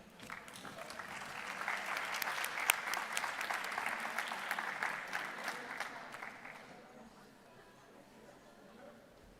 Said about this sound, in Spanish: Cuando quieran, un aplauso.